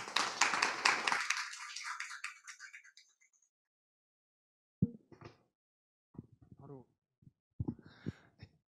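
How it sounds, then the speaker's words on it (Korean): An audience at a Korean open government forum claps briskly as a debate session's moderator and panelists are welcomed; the applause fades out within about three seconds, followed by near silence and then someone speaking quietly. "모두 큰 박수 부탁드립니다"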